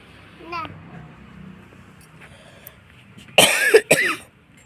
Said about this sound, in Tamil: இரும்பல் எனக்கு சளி பிடிச்சிருக்கு.